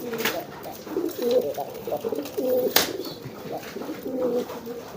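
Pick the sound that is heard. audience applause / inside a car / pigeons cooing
pigeons cooing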